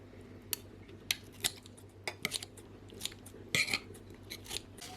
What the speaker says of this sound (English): Cut some kimchi in small pieces.